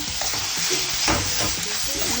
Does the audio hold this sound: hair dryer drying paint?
no